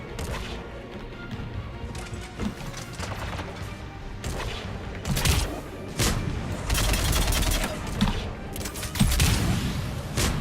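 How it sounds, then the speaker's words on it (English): Rapid assault rifle fire in a shooter game, sustained bursts of sharp cracks mixed with impacts and booms, loud and continuous throughout with no talking. "Did I mention that I like this assault rifle?"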